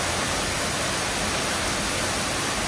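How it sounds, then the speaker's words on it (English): Waterfall in the Big South Fork backcountry, a steady, dense roar of falling water filling the whole clip evenly and loudly, with no pauses or voices. "This is a very nice waterfall."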